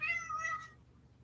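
A cat named Miss Kitty gives a single short meow, faint and close in a quiet room, the call fading out within about a second.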